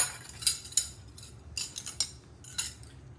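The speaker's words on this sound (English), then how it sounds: "let's stir that up a little. Let's stir that up." A spoon stirs lasagna sauce in a cooking pot, giving a handful of light metallic clinks and scrapes close by, in irregular bursts over a low background hum.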